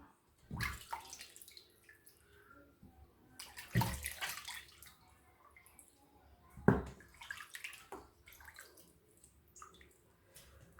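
Raw meat being washed in water for a pot-au-feu vegetable stew: a few separate splashing bursts with sloshing and dripping between them, fairly close and moderately quiet.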